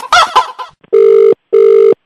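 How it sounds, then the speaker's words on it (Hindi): Two loud electronic telephone ring bursts, each about a second long with a steady buzzing tone, follow a short comic voice line; the rings are close and clear with a brief gap between them. "तुम्हारे फोन की भी घंटी बजे"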